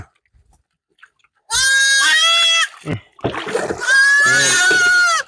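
Pygmy goats bleat loudly in long, wavering calls while being bathed, two drawn-out cries close by with a brief splash or thump between them.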